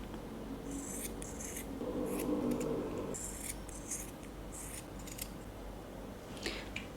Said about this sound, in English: Now just cut out the shape.